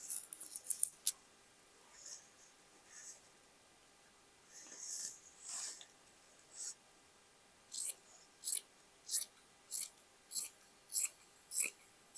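Scissors snip through denim and sweater fabric while sewing a boho dress, a series of crisp, close cuts that start sparse and become a regular run of about a dozen bright snips, with no talk over them.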